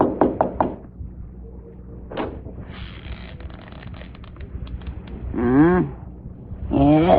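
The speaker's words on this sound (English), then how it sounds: "go ahead. Knock." A quick series of knocks on a door opens a scene in a 1949 radio drama. The sharp raps come close together and loud, followed by quieter rustling and brief sounds.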